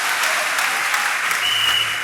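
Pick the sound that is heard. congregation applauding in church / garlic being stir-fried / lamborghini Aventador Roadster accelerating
congregation applauding in church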